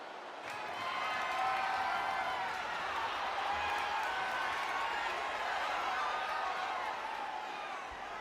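A WWE 2K25 arena crowd at a SmackDown tag team title match keeps up a steady roar of cheering, distant and fairly quiet, with a faint high whistle-like tone running through it.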